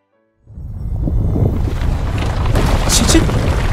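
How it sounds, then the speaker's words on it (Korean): A deep earthquake rumble shakes the prison in an animated Bible story about Paul and Silas, booming in suddenly and holding as a loud, sustained roar with rattling debris. "지진이에요!"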